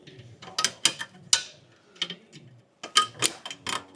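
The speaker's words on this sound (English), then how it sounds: "Give them a push, give them a twist, and them springs will come off relatively easy." Metallic clicks and sharp scraping ticks as wheel cap pliers push and twist springs off car brakes, in short irregular bursts with a brief pause between, close and fairly quiet.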